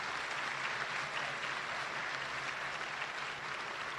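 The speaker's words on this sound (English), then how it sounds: "she's receiving a very warm round of applause" Steady, dense applause from a large crowd at the 1988 White House Correspondents' Dinner, sustained and even throughout with no pauses.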